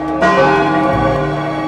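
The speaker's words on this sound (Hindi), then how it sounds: "सुबह की पहली घंटी ने आकाश को छू लिया।" A single bell struck once, its deep tone ringing on and slowly fading.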